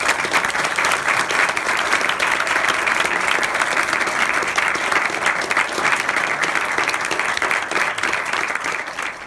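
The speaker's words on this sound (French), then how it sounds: "Merci beaucoup, on applaudit Dario Argento." Cinema audience applauding director Dario Argento at a screening, dense, loud, sustained clapping from a large crowd that holds steady throughout and eases off only slightly at the end.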